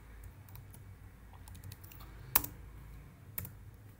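Keys clatter quietly on a computer keyboard in a sparse, uneven run of light clicks, with two sharper, louder keystrokes standing out near the middle and end.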